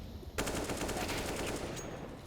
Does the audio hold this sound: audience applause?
no